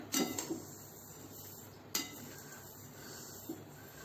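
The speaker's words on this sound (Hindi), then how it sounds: "आराम आराम से इसे हम भून लेंगे थोड़ा कलर चेंज होने तक।" Kala masala spices dry roasting in a pan over medium-high flame, mostly quiet with a few metallic scrapes and clinks of a spatula against the pan, close and sparse.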